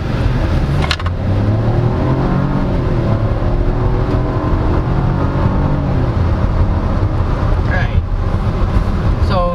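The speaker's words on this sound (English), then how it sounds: "So here, driving the Chevrolet Trax yet again." A 2024 Chevrolet Trax RS with a 1.2 L turbo three-cylinder is driving, giving a steady, loud engine and road drone throughout, with light rumbling bursts near the start and toward the end.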